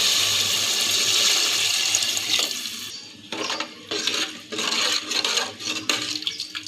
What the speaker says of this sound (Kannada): ಈಗ ನೀರು ಹಾಕ್ಕೊಳ್ಳೋಣ್ರಿ